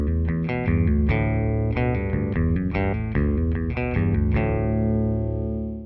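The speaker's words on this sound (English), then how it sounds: "So this will have to be bass through a guitar amp because I wasn't prepared." Bass guitar played through a guitar amp with effects, distortion and chorus, giving a steady run of sustained, overdriven notes and chords that ends on a ringing note and decay.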